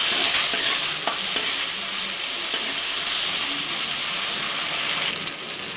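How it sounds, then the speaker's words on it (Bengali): Ground masala paste stirred and fried in a pan, a steady bright sizzle running throughout with occasional scraping strokes of the spoon, close and fairly loud, no voices. "মিশিয়ে বাটিতে জল দিয়ে দিলে পুরো মশলাটা দিয়ে নাড়াচাড়া করে ভেজে নিই।"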